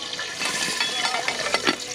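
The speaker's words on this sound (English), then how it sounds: "Got gravy boiling away in there." Gravy bubbles and sizzles in a pot on a Winnerwell camping stove, close and crackling, with irregular pops and spattering bursts over a steady simmer.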